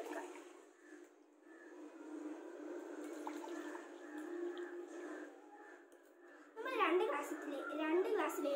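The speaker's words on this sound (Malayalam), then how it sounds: "ഇനി നമുക്ക് രണ്ട് ഗ്ലാസ്സിലും വെള്ളം ഒഴിച്ചു കൊടുക്കാം." Water being poured into two glasses for a children's science experiment, a soft trickling and gurgling that rises into a louder pour toward the end, with someone speaking over it.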